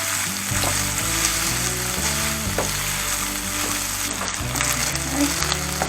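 Sausage and sliced green onions sizzle loudly and continuously in a frying pan, a dense crackling fry close up with low steady hum beneath and no talking.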